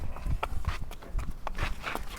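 Hooves of a large Murrah buffalo walking, a steady run of muffled clopping thuds close by, with a faint voice in the background.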